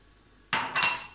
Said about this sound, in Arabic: انا دابا غادي نغسل الموان